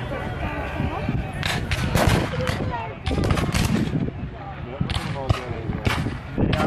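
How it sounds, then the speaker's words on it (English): Rifle gunfire at a Civil War reenactment of the Brooksville Raid, fired by file: loud, uneven shots cracking out one after another in the open air, with people talking in between. "Firing by file, where each man fires as quickly as he can load the fire, not by volley, which is the entire unit."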